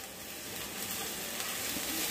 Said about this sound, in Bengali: তেলের সাথে আমি রসুন কুচি আর আদা কুচিটাকে ভেজে নিচ্ছি